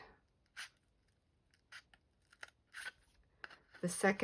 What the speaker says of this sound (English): You're going to cut it on both sides to the second score line